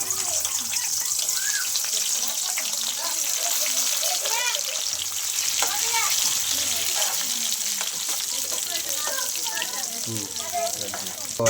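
Onions frying in hot oil in a pan, giving a steady, continuous sizzle that runs throughout with a voice talking intermittently over it.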